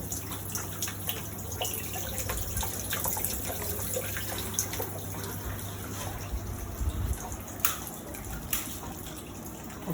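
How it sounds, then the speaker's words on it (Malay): In an aeroponic growing system, water flows and sprays onto plant roots, making a steady trickling, dripping wash over a constant low pump hum. "air akan mengalir mengikut arus dan siram ke akar pokok"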